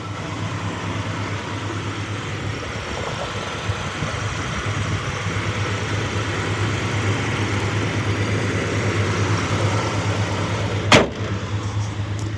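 A 1988 Ford Ranger's 2.9 fuel-injected engine, running on old gas, idles steadily with a low, even rumble, close by, and a sharp knock near the end; no one speaks.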